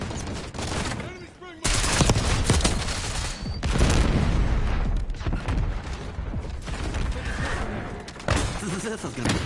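Dense gunfire in Call of Duty Black Ops 6, loud overlapping bursts and rapid automatic shots crackling almost continuously, with a short quieter lull near the start before the firing swells again and keeps going.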